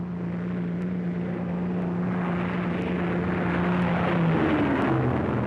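A World War II heavy bomber of the 5th Air Force drones overhead, its propeller engines giving a steady low hum with a slowly shifting pitch, close and loud throughout with no talk.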